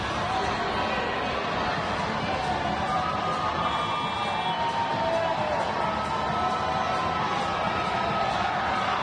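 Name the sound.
crowd cheering and making noise at a women's basketball game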